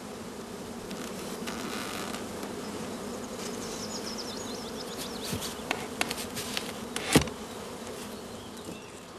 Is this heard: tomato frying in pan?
no